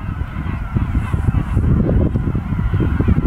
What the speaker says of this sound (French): Des mouettes.